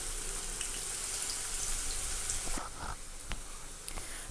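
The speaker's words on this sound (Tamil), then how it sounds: "பொட்டேட்டோ போட்டு ஆயில் ஆல்ரெடி நான் 2 மினிட்ஸாக டீப் ஃப்ரை பண்ணிகிட்டு இருக்கேன்" Potatoes deep frying in hot oil, a steady bright hiss and sizzle running throughout, with a few clinks and a slight drop in the sizzle toward the end.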